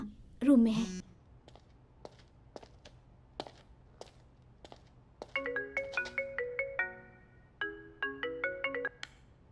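A phone rings with a bright, repeating melodic ringtone in two bursts of quick chiming notes, heard fairly close in a quiet room after a brief rustle and some light taps.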